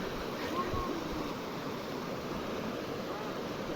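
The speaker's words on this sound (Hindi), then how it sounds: "ये हमारे साथ बिल्कुल दरिया बह रहा है" A river rushes beside a mountain road near a remote Kashmir border village, a dense, steady roar of flowing water that stays loud and continuous throughout, with no break.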